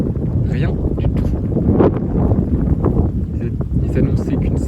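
Loud gusting wind from a sudden hailstorm buffets the microphone in rough bursts while someone talks excitedly over it.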